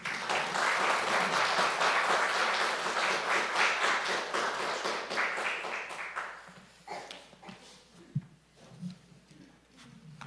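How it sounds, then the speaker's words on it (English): Audience applause for the mayor after a State of the City address in Livingston, loud sustained clapping from a crowd for about seven seconds, then fading to scattered claps and room noise. "Another round of applause for you."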